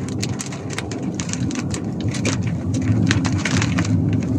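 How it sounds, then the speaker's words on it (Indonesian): Heavy rain pours steadily, dense patter drumming on a surface with a low rumble underneath, growing slightly louder toward the end. "Okey, dah mula hujan lebat."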